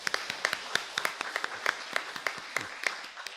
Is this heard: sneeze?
no